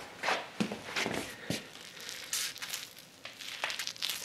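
Hands squeeze and squish overly wet oatmeal pack bait for carp fishing, giving close, irregular wet squelches and crackly crunches in uneven bursts over a few seconds.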